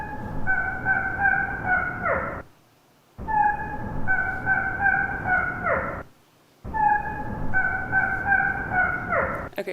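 A capuchin monkey call is played back slowed down, becoming a drawn-out, harmonic, honking cry with falling ends, repeated three times with short silent gaps between.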